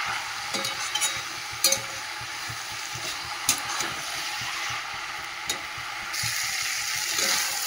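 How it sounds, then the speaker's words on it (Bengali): Soft mustard greens and potatoes stirred in a pan as they release water, a continuous sizzling hiss with occasional clinks and scrapes of a spatula, the frying growing louder near the end, with no voices. "নাড়তে নাড়তেই কমে যাচ্ছে, জল বেরোবে।"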